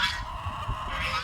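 A duck honks among backyard chickens, a short, faint nasal call under low clucking and rustling ambience.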